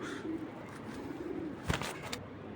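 Pigeons on a bird farm coo softly in the background, a low rolling murmur, while a brief rustle or flutter sounds close by partway through.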